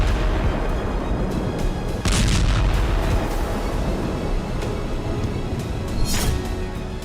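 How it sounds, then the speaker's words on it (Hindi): Russian Iskander missiles strike a target with heavy explosions, deep rumbling booms and crackling bursts rolling over a loud, continuous roar, with a sharper blast near the start and another later. "ये रूस की इस्कंदर मिसाइलों से होने वाले धमाके हैं।"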